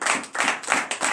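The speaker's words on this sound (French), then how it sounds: "Donnez encore l'acclamation." A worship congregation at a night of deliverance and prophecy claps in acclamation, loud rhythmic bursts of clapping rising and falling in quick waves.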